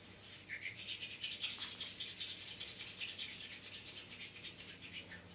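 Hands rubbing together during a self-massage, a soft, steady swishing friction with rapid even back-and-forth strokes, close and quiet, with no other sounds.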